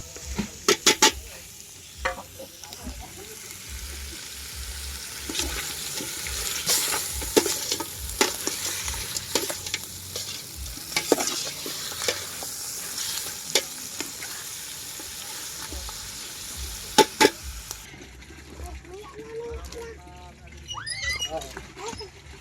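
Papaya cooking in a pan gives a steady sizzle broken by repeated scraping and clacking of a utensil, with people talking over it near the end.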